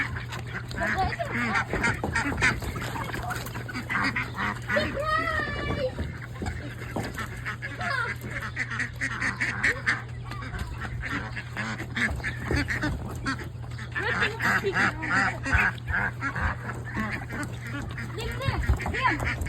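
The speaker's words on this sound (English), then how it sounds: "today me and my brother Liam are gonna catch a duck" Ducks and other fowl quack and honk repeatedly at close range during an attempt to catch birds, with a steady low hum and people talking now and then.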